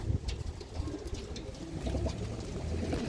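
Pigeons kept in a net enclosure coo in low, continuous murmurs over a steady background hum, with no talking.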